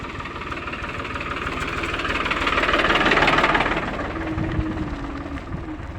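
A tractor with a plough attached chugs along a rural road to market, its engine knocking in a steady rhythm that swells louder as it draws near and then eases off, with no talking.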